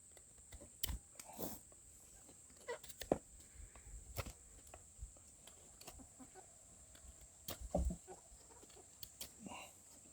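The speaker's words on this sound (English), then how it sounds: "The chickens are talking over there." Scattered clucks and short calls from chickens at a distance, irregular and fairly faint, with occasional louder bursts over a steady high-pitched background hum.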